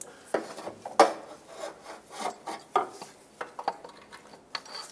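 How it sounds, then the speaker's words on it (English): A new rear CV axle on a 2007–2017 Jeep Compass is slid into the differential and twisted to line up the splines, giving quiet scraping, rubbing metal clicks in irregular bursts. "Slide it into the differential, give it a couple twists to line up the splines."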